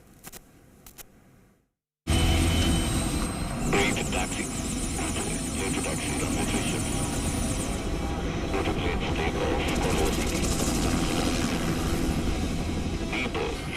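A locally built Indian Air Force light combat helicopter flies past with a loud, steady rotor and turbine roar that starts abruptly after a short quiet gap and continues throughout, with voices faintly beneath it.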